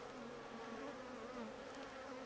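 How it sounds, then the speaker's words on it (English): Honeybees in a hive beneath a box buzz in a dense, continuous hum, close and steady for a couple of seconds with no voices. "Yeah, I've got a whole hive going underneath here"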